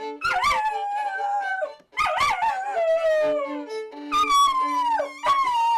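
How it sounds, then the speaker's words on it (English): A hound dog howls in three long, drawn-out wails with wavering pitch, loud and close, separated by brief pauses. "I have a hound dog."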